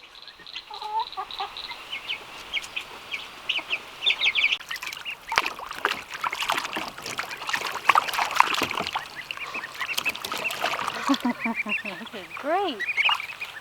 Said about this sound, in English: that little duckling